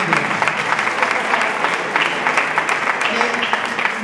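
Close, loud applause from the audience at a Christmas choir concert in Forio, a dense steady clapping that lasts the whole stretch with faint voices mixed in.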